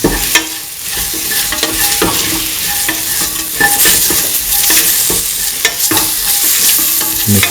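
Scrambled egg, chickpeas and coconut milk rice being stirred in a hot pan, with repeated scraping strokes over steady frying sizzle, close and fairly loud.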